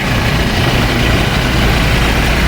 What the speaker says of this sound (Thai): เครื่องยนต์เดินนิ่ง ๆนะครับ